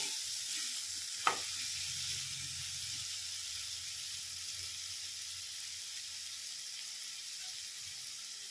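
Chopped ridge gourd fries in a pan with a steady, fairly quiet sizzling hiss, one brief knock of a spoon early on and faint stirring, no talking.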